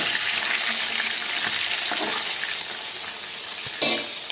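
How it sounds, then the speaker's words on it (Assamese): Fish frying in a pan with a loud, continuous bright sizzle that softens a little partway through, with a few faint clinks. "এইফালে মাছ ভাজি আছো"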